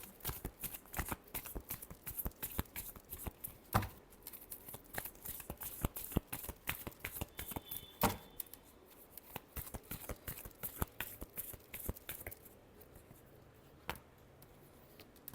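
A deck of tarot cards being shuffled up close: a long run of quick, crisp flicking and riffling clicks that grows quieter and sparser near the end.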